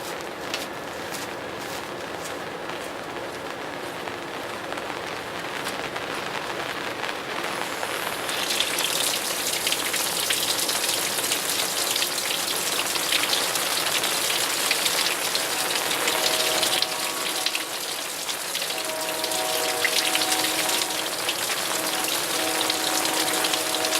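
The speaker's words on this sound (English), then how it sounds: "Here comes the rain." Steady rain hisses outdoors beside a 1990 Johnson 30 hp outboard motor, a continuous broadband wash that thickens and grows louder partway through, with no voices.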